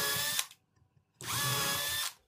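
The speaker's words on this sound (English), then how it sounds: "I'm now pre-drilling where the screws are going to go." A power drill pre-drills screw holes in reclaimed timber for a spiral end table: two close, loud whining bursts, a short one then a longer one, separated by a brief quiet pause.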